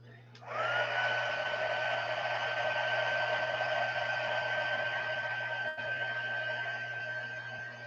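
A hair dryer drying a painted craft project switches on and runs as a steady, loud close whir with a constant whine for several seconds, easing slightly at the end, with no talk.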